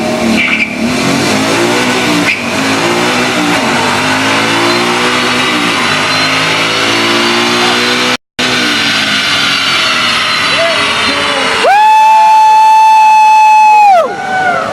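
A 2012 Ford Mustang Boss 302 V8 roars as it accelerates through the gears to a 7,500 RPM redline at the top of fourth, loud and rising in pitch, with a brief cut and faint cheering.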